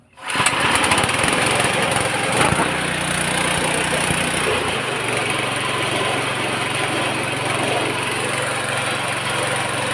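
A small engine on a Sato 4-in-1 rice mill starts and then runs steadily as it warms up, with a loud, constant, buzzing drone close by and a slight drop in pitch partway through.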